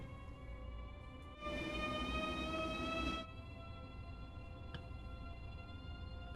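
An ICE high-speed express train in Train Sim World 2, running between Frankfurt and Brussels, gives off a steady tonal motor whine with layered harmonics. A louder broadband rush swells for about two seconds partway through, then the whine carries on alone.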